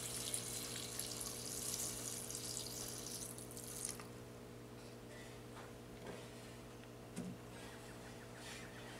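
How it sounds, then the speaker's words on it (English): Room-temperature water is poured into a pot over jamun berries for wine making, a steady hissing splash for about four seconds that gives way to quiet, faint drips and small knocks. "Barely cover the jamun with some clean room temperature water."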